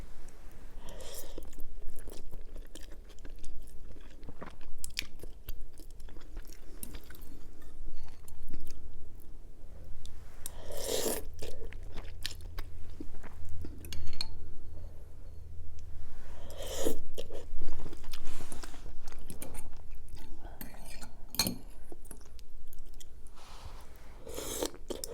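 Someone eating spicy ramen up close, with steady wet chewing, crunching and occasional slurps and sniffs running continuously at an even, moderate loudness, without talk.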